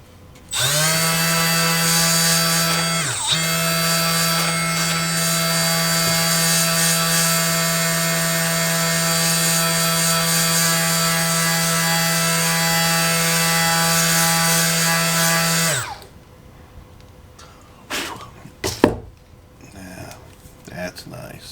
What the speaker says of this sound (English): I might take this out to the belt sander and do it out there.